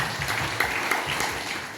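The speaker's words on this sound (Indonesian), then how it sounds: "Kita berikan tepuk tangan dulu buat Tuhan Yesus" A church congregation claps together for Jesus, a steady, moderately loud wash of many hands with a few sharper claps standing out, continuing without speech over it.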